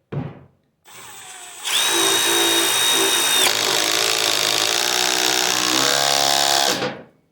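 A Milwaukee Gen3 M12 impact driver drives a large 5/16 screw into a board, a brief whir, then a loud, sustained high-pitched buzzing run of several seconds that stops abruptly, heard up close with no talk.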